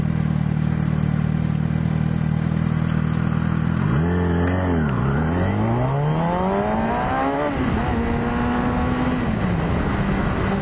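A motorcycle ridden on the road accelerates hard, its engine note sweeping up and down through gear changes, loud and close amid steady wind rush.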